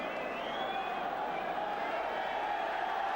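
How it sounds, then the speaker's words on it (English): A football crowd at Highbury in 1981 applauds at the final whistle of an Arsenal win, a steady, distant wash of clapping and cheering that holds level throughout. "The crowd applaud, and Arsenal win."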